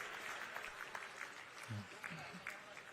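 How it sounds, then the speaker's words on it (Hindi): An audience at an award ceremony for Asian Games medal winners claps in a soft, distant, continuous patter, with a faint voice murmuring partway through. "आप बराबर तालियां बजाते रहिएगा"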